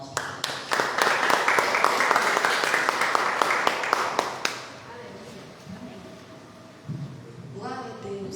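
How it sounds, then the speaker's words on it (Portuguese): A church congregation at a Mirav Los Angeles service bursts into dense, loud applause for several seconds, then it stops and a voice speaks over quiet room tone. "Uma salva de palmas para Deus"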